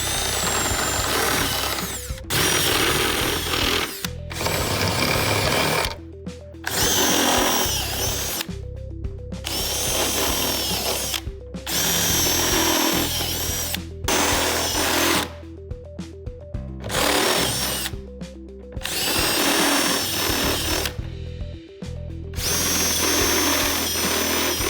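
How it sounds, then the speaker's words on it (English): A power drill opens up pre-drilled holes for a sport wing install on an FE Civic sedan, running loud and close in repeated long bursts separated by short pauses, with no talking. "So now that your main holes are drilled, you can go ahead and open these holes up."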